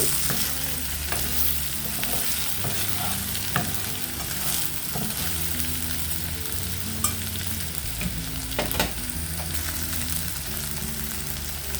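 Brinjal frying in a pan gives a constant close sizzle for about twelve seconds, with repeated scrapes and clinks from stirring and no voices.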